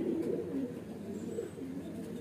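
Pigeons, a flying breed crossed with Bajra stock, coo softly in a low, rolling murmur that repeats through the short stretch, fairly quiet and continuous with no talk over it.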